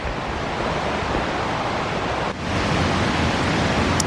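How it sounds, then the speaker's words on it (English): A big river rushes below an alpine stretch of Vermont's Long Trail, a steady, dense roar of water that holds evenly for a few seconds with no voices. "I can hear that I'm coming up on a big river just down there"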